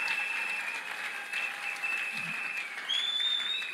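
Sustained applause from a church congregation acclaiming the king of kings, a dense, steady clatter of many hands lasting throughout with a brighter swell near the end.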